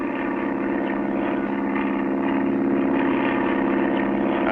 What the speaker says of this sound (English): Clutch and Company board their plane and begin their trip.